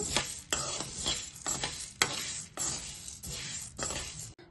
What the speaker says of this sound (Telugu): అందుకే మీడియం ఫ్లేమ్లో పెట్టుకుని వేపుకోవాలి పప్పు